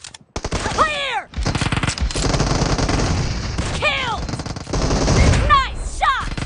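Rifle shots from the mobile battle-royale game PUBG Mobile, a dense run of rapid gunfire and blasts filling the clip, with short clipped game voice callouts over the shooting.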